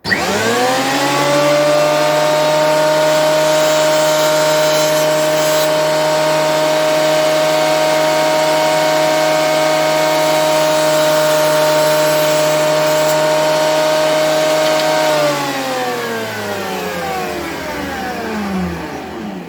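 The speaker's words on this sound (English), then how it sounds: "I just use my thickness planer for it" A thickness planer feeds a maple board, its loud, steady motor whine holding a constant pitch for about fifteen seconds before winding down as the cut ends, close and alone.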